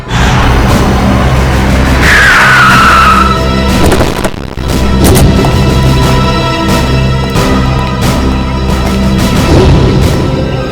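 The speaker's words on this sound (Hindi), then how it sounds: "उनकी गाड़ी का बैलेंस बिगड़ा, स्टीयरिंग पर से कंट्रोल छूटा और गाड़ी इस दीवार से आके टकरा" A car loses control, skids and crashes into a wall in a police drama scene, with a sharp tyre squeal followed by a heavy impact, all under a loud, dense music score.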